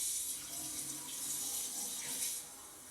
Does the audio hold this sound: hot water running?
yes